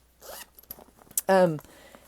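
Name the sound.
zipper on a hanging cosmetic bag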